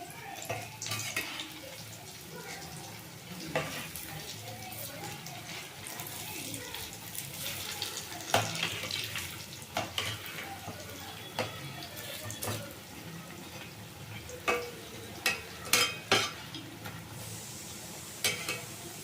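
Urad vada, a lentil fritter, sizzles and bubbles in hot oil while being stirred and turned, with scattered clinks and scrapes from a utensil against the pan rising over a steady frying crackle.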